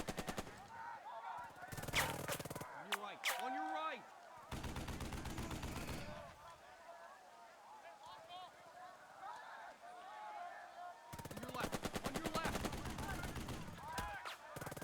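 Bursts of machine gun fire in the WWII video game Burden of Command rattle out in two long rapid strings separated by quieter stretches, with a voice talking over the game sounds.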